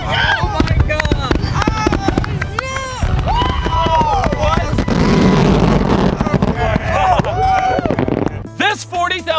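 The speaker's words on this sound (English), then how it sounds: "This isn't just one firework. This is an entire show." A big fireworks show costing $160,000 bursts in rapid crackling and booming volleys, with excited shouting voices over the near-constant blasts.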